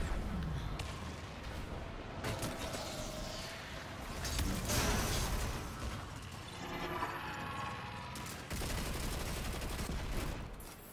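Gunfire in Destiny 2, with repeated bursts of shots and clicking reload mechanisms in a busy stretch that stays loud throughout, layered with game effects.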